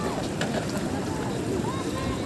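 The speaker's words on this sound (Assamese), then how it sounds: "বহুত বতাহ মাৰি আছে।" Strong wind sweeps along the bank of the Ganga at Haridwar, a continuous rushing roar buffeting the microphone for the whole stretch, with faint voices mixed in.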